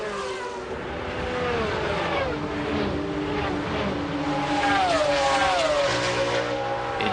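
Porsche 911 GT1 race cars at the 1996 Le Mans 24 Hours roar past, their engine notes rising and falling in pitch as they pass, loud and close, with a Ferrari and other cars droning nearby.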